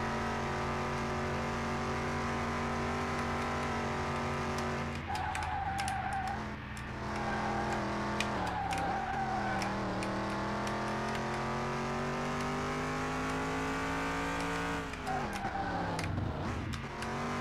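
A video game car engine drones in a steady, loud whine while drifting around a track, pitch sliding up and down as it revs and bogs from lack of power, with brief clicks and scrapes over the continuous motor, no speech.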